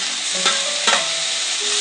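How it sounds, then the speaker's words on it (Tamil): Tomatoes for brinjal rice sizzle loudly in a pan, a dense close frying hiss broken by two sharp spatula scrapes, with no talking. "இப்போ தக்காளியை போட்டுடலாம்"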